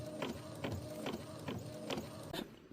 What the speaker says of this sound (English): First one's coming out of the printer now.